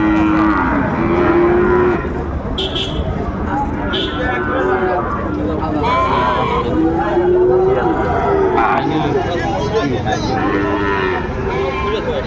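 Several cattle, including Sahiwal calves, moo repeatedly at a cattle market in Dinajpur, some close and loud, over a busy crowd murmur and people talking throughout.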